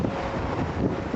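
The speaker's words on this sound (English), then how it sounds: "it's getting really windy, as you can probably hear it rushing past me right now" Strong wind rushes and buffets against a camera microphone outdoors by gardens in Paris, a continuous loud, rumbling roar with no talking.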